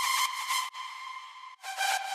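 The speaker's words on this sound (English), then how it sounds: "Add a screaming lead." A piercing, bright synth lead holds a sustained tone with a brief dropout and a wavering return, loud and harsh.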